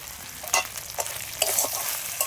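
Sea crabs with spices and crab roe being stirred and sautéed in a pan, with several sharp scraping stir strokes over a low steady sizzle, close and fairly loud.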